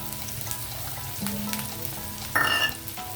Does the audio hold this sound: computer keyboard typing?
no